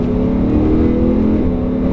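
A Lamborghini Huracan LP570 engine roars loudly up close as it accelerates on a race circuit, a dense, sustained growl with a gradually shifting pitch.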